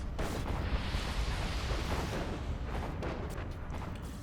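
Artillery fire in the Planetary Annihilation video game forms a continuous rumbling roar of distant blasts and booms, dense and steady with no separate shots standing out.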